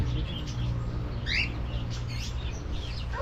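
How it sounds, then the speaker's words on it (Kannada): Cockatiels kept as pets chirp in short, bright bursts over a steady low background hum, moderately near and without speech. "ಇದ್ರ ಹೆಸರು ಬಂದ್ಬಿಟ್ಟು ಕಾಕ್ಟೈಲ್ಸ್ ಅಂತ ಕರೀತಾರೆ"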